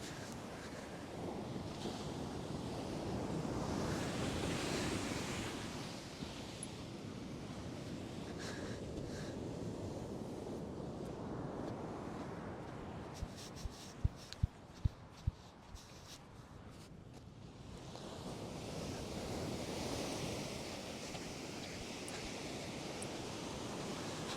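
Waves wash and surge at the water's edge in a steady roar, with gusts of wind buffeting the microphone and a few brief clicks.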